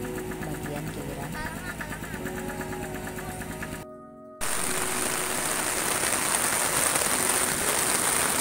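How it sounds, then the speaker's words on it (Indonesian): Heavy night rain hammers a beach campsite, a dense continuous hiss that drops out briefly midway, then returns louder. A person talks over the downpour in the first half. "ketika malam ini hujan ya, deras sekali."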